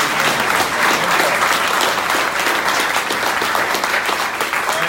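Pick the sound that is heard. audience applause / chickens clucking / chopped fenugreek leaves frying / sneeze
audience applause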